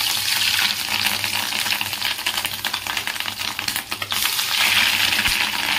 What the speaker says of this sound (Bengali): এগুলো ভেজে নিই।